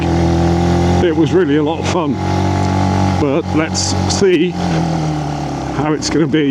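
A Benelli BN125 motorcycle engine hums steadily while being ridden along a road toward Hardknott Pass, with its pitch rising and falling through gear changes, heard under a rider talking.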